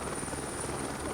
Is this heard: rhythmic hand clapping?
no